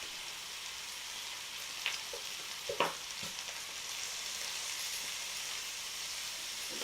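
Italian sausage browning in a pot as pepper and garlic go in, a soft steady sizzle with a few spoon clinks and scrapes in the middle, fairly quiet and with no talking.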